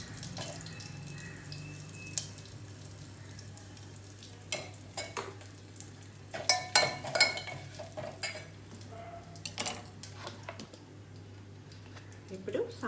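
Halved sambar onions drop into a hot tempering of curry leaves and asafoetida in a pan, giving a burst of sizzling and clattering stirring midway over a steady low hum, with a voice talking throughout.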